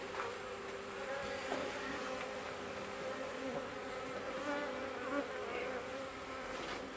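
A dense, continuous buzzing of many honey bees around a Flow Hive Hybrid fills the air close by, steady and unbroken with no voices.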